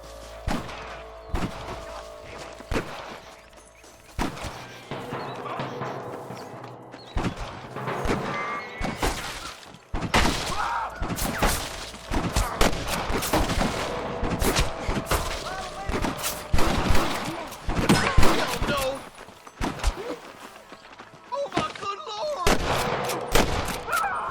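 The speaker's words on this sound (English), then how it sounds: "I can hear more gunshots." Rapid bursts of gunfire in the video game Red Dead Redemption crackle repeatedly, with sharp shots and thuds mixed among scattered voices throughout.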